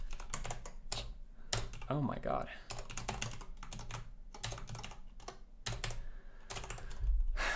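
Rapid, bursty keystrokes on a computer keyboard during programming, clattering in quick runs with short pauses, while someone talks and exclaims over it.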